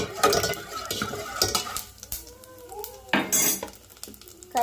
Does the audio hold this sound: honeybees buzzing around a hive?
no